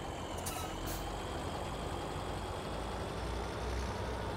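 Truck with a plough on the back in Farming Simulator 2017, its engine droning steadily and loudly throughout, with a couple of short hissing bursts early on, alone without talk.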